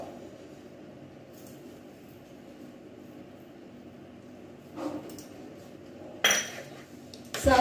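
Semolina upma being stirred in a pan on a low gas flame, a soft steady scraping under a low background hum, with a few sharper utensil clinks near the end.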